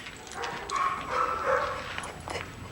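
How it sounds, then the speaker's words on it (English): A dog barks a few short, fairly faint barks in quick succession, spaced over a couple of seconds against a quiet indoor background. "You have a dog."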